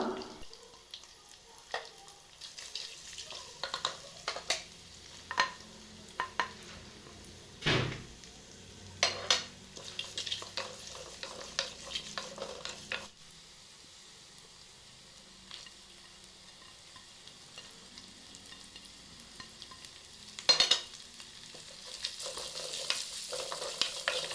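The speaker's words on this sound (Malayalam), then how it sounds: "ആദ്യം വെളുത്തുള്ളിയും പിന്നെ ഇഞ്ചിയും പിന്നെ ചുവന്നുള്ളിയും ഇട്ട് നന്നായിട്ട് എല്ലാം കൂടി ഒന്ന് വഴറ്റിയെടുക്കാം." Garlic, ginger and shallots sautéing in a pan for a Kerala mackerel curry, a steady close sizzle broken by scraping stirs and clatters of the spoon against the pan, with no one speaking.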